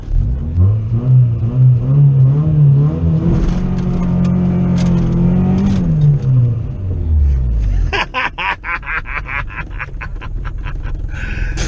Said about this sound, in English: I'm gonna do a dirt burnout